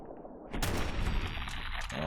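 Rifle fire in a video game's VATS targeting mode: a burst of heavy gunshots erupts at about half a second, then a sustained rumbling blast fades out, loud and close, with no talk over it.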